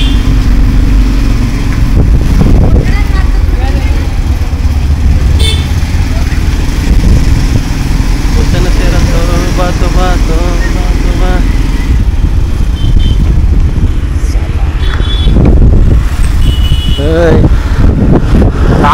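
A Hero Splendor motorcycle idles in neutral with a steady low engine drone, while people talk loudly over it throughout.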